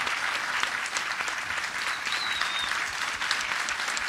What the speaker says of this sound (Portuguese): A gente gostaria de pedir uma salva de palmas